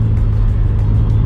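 A classic Mini's engine drones loud and close from inside the car while driving, a steady low rumbling hum with faint rhythmic pulses and no talking.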